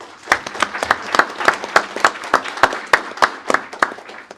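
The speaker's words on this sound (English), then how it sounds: "Let's give them a round of applause." Applause from an audience at a county board of supervisors meeting, a steady patter of many hands clapping with sharp individual claps standing out, fairly close and continuous with no talk over it.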